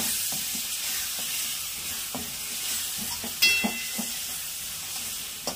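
Masala paste stirred and frying in hot oil in a pan for a murrel fish curry, with a steady close sizzle and scattered scraping strokes of the spoon, no talk.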